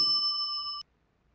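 A single steady electronic ringing tone, bright and clear, sounds for under a second and then cuts off into silence.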